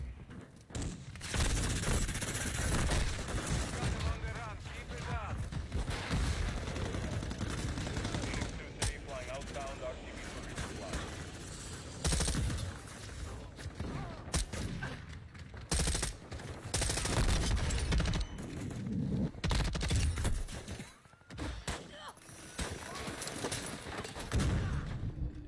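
Light machine gun fire in a first-person shooter video game comes as sustained rapid bursts and fusillades with brief pauses, mixed with game effects and voices talking over the action.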